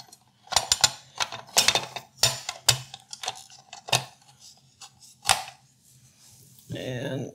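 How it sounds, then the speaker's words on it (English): Hard plastic clicks and clatters as a slicing blade is fitted onto a Cuisinart Custom 14 food processor, a series of sharp, close knocks and snaps, irregular in rhythm, ending in a brief rattling scrape. "I'm going to go ahead and put the blade on."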